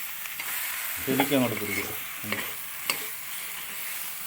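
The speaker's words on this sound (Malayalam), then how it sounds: "ഇങ്ങനെ തെരുതെരെ ഇളക്കി കൊടുത്തോണ്ടിരിക്കണം" Tender papaya and masala fry in a pan, with soft sizzling beneath scraping, clinking spoon stirs. A voice speaks briefly over the cooking.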